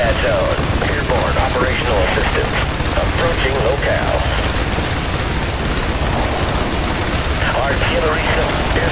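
Combat gunfire rattles through the video game IS Defense, with dense overlapping bursts and distant blasts forming a continuous loud barrage that never lets up.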